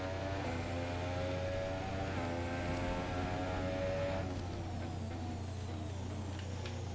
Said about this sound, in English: the modern F1 car does not sound nearly as good as its predecessors